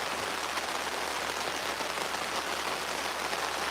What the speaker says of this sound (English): can you hear the rain? Can you hear the rain pretty good?